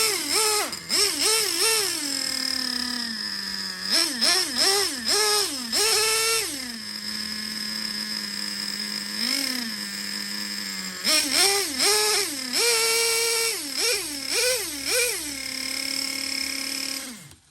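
A Traxxas Jato 3.3 nitro RC car engine, running a little lean, revs in repeated quick rising-and-falling bursts between stretches of a steady high idle, loud and close throughout.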